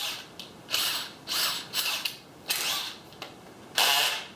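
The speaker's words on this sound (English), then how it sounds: "I'm using a 1-inch bit." A drill with a 1-inch bit bores into a teardrop camper door in short bursts, several whirring, grinding pulses separated by brief pauses, close and moderately loud.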